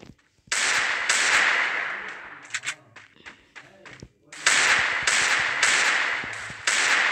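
Desert Eagle pistol shots in the Free Fire video game, a series of sharp loud cracks in bursts, with a voice talking briefly between shots.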